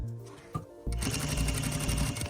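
Sewing machine stitching a throw pillow with self welt and zipper, starting after a brief click and running steadily and close with a fast, even mechanical whir to the end.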